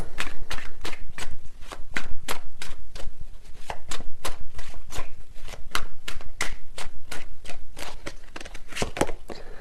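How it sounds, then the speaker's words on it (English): Tarot cards being shuffled in a rapid, regular run of crisp riffling flicks, loud and close, continuing steadily with no talk. "These cards are flying out."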